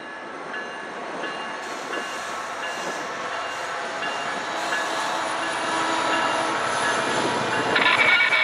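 A SunRail commuter train passes near Kissimmee, Florida, a steady rolling rumble of wheels on rail with faint squealing tones, growing gradually louder and closer toward the end.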